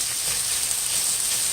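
Saltfish and tofu frying in a pan, a steady, close sizzling hiss with no pauses and no talking.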